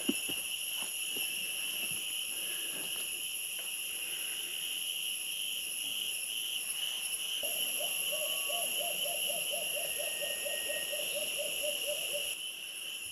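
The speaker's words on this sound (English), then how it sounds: "Not sure if you can hear the sound of the warbler, but it sounds like a low-pitched flute" A soft, low, flute-like warbler call repeats in a rapid run of notes, heard over steady high insect buzzing in a quiet outdoor setting on Palau.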